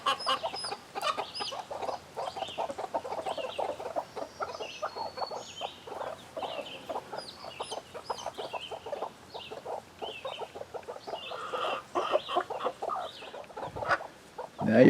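Chickens cluck and chatter continuously in a coop, with a small chick among the big birds, a busy, loud flock with overlapping calls and no talking.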